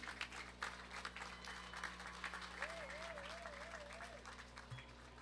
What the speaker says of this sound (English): Let's give a round of applause to Serena Harris.